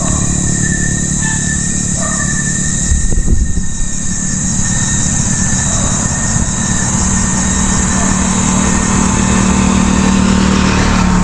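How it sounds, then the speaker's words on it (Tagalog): A motorcycle engine runs steadily at a roadside in the Philippines, a loud, close, continuous mid-pitched drone with a brief rough surge near the start, and no talking over it. "Yun ay motor."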